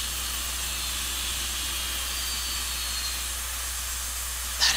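Steam locomotive turbo generator on a Southern PS-4 in Trainz Railroad Simulator 2019 winding down, a steady broad hiss with a low hum underneath, sustained and even throughout.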